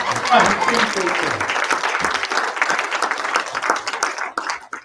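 Audience applause at a Sunday church service, a steady wash of many hands clapping throughout, with a voice speaking over the start.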